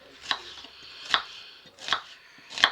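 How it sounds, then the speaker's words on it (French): Red onions being chopped with a knife on a board, four distinct, evenly spaced cuts landing close and crisp, with no voices. "nous coupons les oignons rouges"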